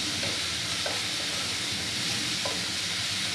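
Ginger-garlic paste fried in a pan for a pomfret curry, a dense continuous sizzle and hiss with a few soft spoon scrapes, close and even in level, no talking.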